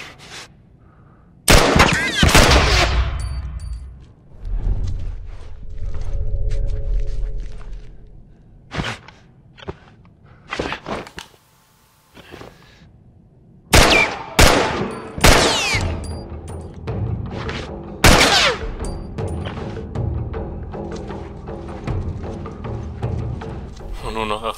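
Gunfire from the video game The Last of Us: sharp bursts of shots in clustered volleys, some rapid and loud, separated by quieter gaps with scuffing movement.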